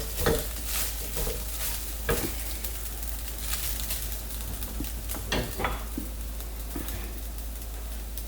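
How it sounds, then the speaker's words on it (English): A spoon stirs salt into coconut rice in a pan, giving soft scraping and clinking strokes with light sizzle, steady and close, with no talk. "I'm adding very little at a time and I will mix it with the rice"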